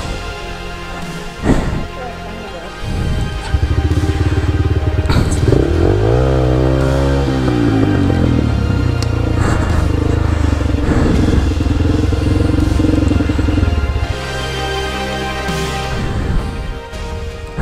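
An off-road motorcycle on a muddy trail, loud and close, its engine revving up and down in sweeping surges, with clattering and a short quieter stretch near the end.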